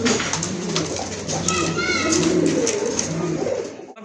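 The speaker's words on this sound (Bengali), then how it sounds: "প্রথমে এক জোড়া রেড চেকার কবুতর দেখতে পাচ্ছেন।" A pair of red checker pigeons coo close by in low, repeated throaty rolls, with higher bird chirps mixed in and faint background voices.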